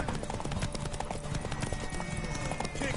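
Horse hooves clip-clop in a quick steady rhythm in The Witcher 3 video game, close and continuous over background game ambience, with no one talking.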